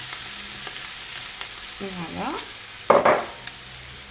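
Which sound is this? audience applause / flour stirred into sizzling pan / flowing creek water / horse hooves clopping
flour stirred into sizzling pan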